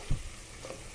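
Chopped tomatoes frying in a pan for paneer capsicum fry, a soft, steady sizzle with a faint knock near the start, quiet and with no voices over it.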